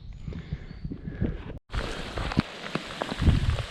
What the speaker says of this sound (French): on a eu la grêle, c'était pas agréable